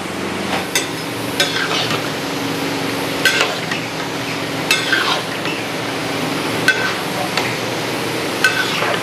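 Pork fries in a pan for a military-hotel-style pork fry seasoned with salt and pepper powder: a steady, close sizzle runs throughout, punctuated by sharp clinks and scrapes as the spatula stirs, with no talk.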